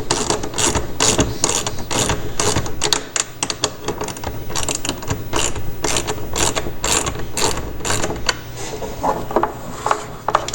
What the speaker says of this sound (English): I've got just a little quarter drive ratchet here, and pull this front bolt out.